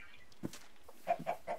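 Chickens cluck a few times in the Minecraft video game, with soft, short calls that come in a brief cluster near the end. The sound is faint and stands alone, with no talking over it.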